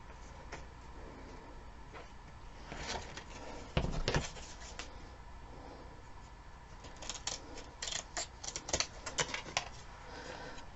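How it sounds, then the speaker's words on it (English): Scissors snip through a thin wooden plank from a dollar store, cutting off its rounded end, giving faint crunchy cuts and a few louder bursts of snipping against a quiet room. "I'm going to just cut off the rounded end. You can try to use scissors, I don't know. Actually, scissors is working pretty good."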